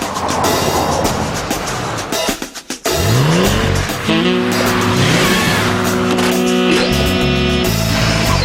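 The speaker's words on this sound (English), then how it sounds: "With 245 kilowatts and all-wheel drive, the new Ford Territory Turbo." A Ford Territory Turbo with 245 kW and all-wheel drive, driving hard with loud tire squeals and rising engine revs, close and continuous after a brief dip, with music over it.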